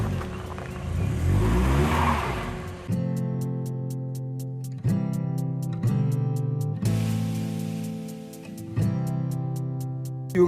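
Low car stuck on a rough dirt road in Cameroon, engine revving loud and close in repeated bursts that rise and fall, each rev separated by short drops in pitch as the wheels struggle.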